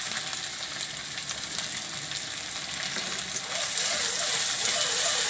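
Chopped onion dropped into hot oil already holding ginger, garlic and chilli: a continuous close sizzle that swells noticeably louder partway through and stays strong, with no voices.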